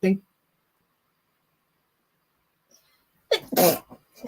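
A single short, sharp sneeze bursts out near the end after a long near-silent pause, preceded by a brief vocal sound at the start.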